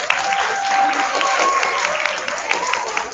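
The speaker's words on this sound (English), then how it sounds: "give yourselves a round of applause." Elementary school students applaud themselves during an award ceremony, a steady burst of clapping from a group with voices and cheering mixed in, lasting a few seconds.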